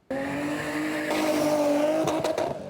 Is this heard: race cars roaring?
yes